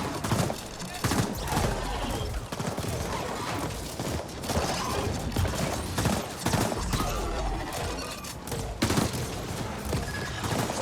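Dense gunfire and grenade blasts roar through a combat scene in the video game The Ascent, loud and continuous with rapid bursts and heavy thumps layered over one another.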